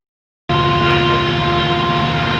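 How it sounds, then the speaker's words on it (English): A passing train cuts in abruptly after half a second of silence, then holds as a loud, steady roar with sustained tonal hum and rumble. "there's a train going past"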